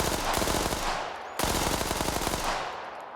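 Rapid submachine gun fire in Arma Reforger, two loud sustained bursts of dense cracking shots with a brief pause between them, tails ringing out after each.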